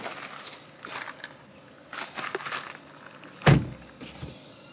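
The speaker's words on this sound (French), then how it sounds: "Et maintenant, tu fermes la porte." A car door swings shut with a single firm thunk after a few seconds of soft rustling and handling sounds, fairly close and alone.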